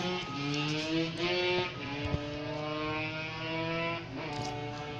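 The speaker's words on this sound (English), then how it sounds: "People are riding dirt bikes by my house." Loud droning dirt bike engines with shifting harmonic pitch, revving continuously as the bikes pass close by a house, no talking.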